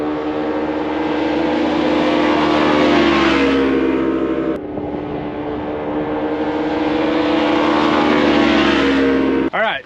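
A Polaris RZR side-by-side on stock tires drones loudly and steadily through a test run, the engine note rising and falling, with a brief cut and a final drop near the end.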